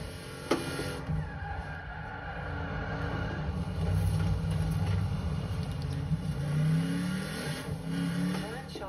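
A Toyota Hilux engine accelerates with a steady rumbling drone and rising revving tones, fairly close and continuous throughout.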